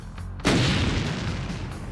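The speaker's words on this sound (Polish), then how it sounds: "Wszystkie beczki wybuchają." A loud, booming blast erupts suddenly and rumbles on, followed by a sustained crackling roar like a chain of exploding barrels in the video game Doom: The Roguelike.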